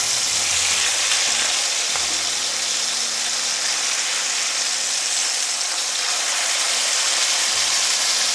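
Meat sears in hot oil in a pan, a loud, steady broadband sizzle close up that runs unbroken throughout, with faint low clatter underneath.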